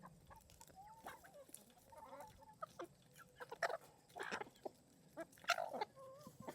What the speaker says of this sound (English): Crazy birds.